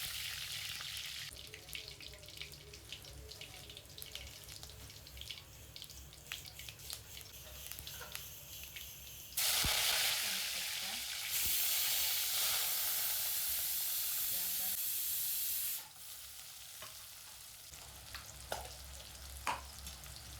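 Cumin seeds fry in two spoons of oil for potato sabzi, a soft steady sizzle and hiss that swells loudly for several seconds midway, with faint spoon clinks on the pan.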